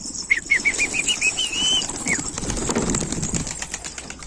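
A bölük of pigeons takes off and flies near a backyard loft, a run of quick wing claps and flutters giving way to a softer whir, with a few short calls over the start.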